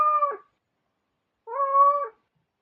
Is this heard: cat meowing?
yes